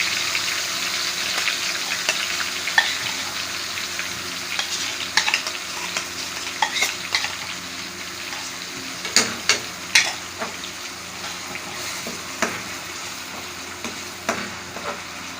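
A paste of tomato, onion and green chili fries in a pan with a steady close sizzle, while a spoon scrapes and stirs through it in intermittent sharp clacks and scrapes.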